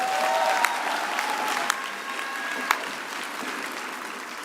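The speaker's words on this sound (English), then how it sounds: "One more round of applause for them." Graduation audience at the University of the Free State applauding singers after their performance, a steady crowd clapping at moderate distance with a few sharper individual claps standing out.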